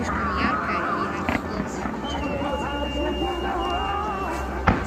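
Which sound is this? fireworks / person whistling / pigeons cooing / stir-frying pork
fireworks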